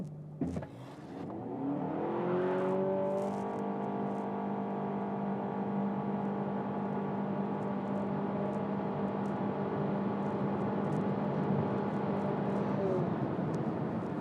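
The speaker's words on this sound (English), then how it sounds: "So let's do a launch now that the road is clear." A 2023 Honda Civic eHEV hybrid launches hard from a standstill with traction control off. A sharp start gives way to a steady, rising engine drone and electric whir that hold loud and smooth for over ten seconds without gear changes.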